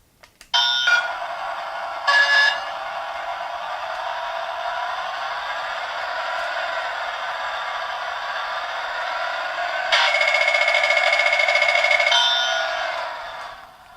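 A fake PS Vita portable console plays a test sound through its speakers, a shrill, thin tone with bright chiming accents at the start and near the end over a steady high-pitched drone, close and fairly loud.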